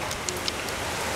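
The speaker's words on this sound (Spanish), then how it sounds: "Pero miren, está lloviendo" Rain falls steadily on a yard, a continuous close hiss with a few sharper drips and patters standing out, no voices.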